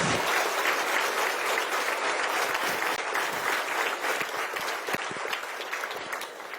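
A church congregation gives loud, sustained applause, dense steady clapping from many hands that holds for several seconds and then slowly tapers.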